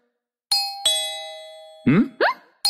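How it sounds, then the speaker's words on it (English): A two-tone doorbell chime sounds in a Minecraft game, two sharp rings followed by a third, with brief game voice sounds in between. "Was that the doorbell?"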